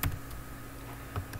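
Keystrokes on a computer keyboard while HTML code is typed, a few light clicks at the start and again near the end, fairly quiet with no talk.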